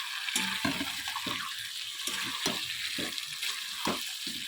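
Meat being cooked down in a pan sizzles steadily while a spatula scrapes and stirs it in repeated strokes every half second or so; no one speaks.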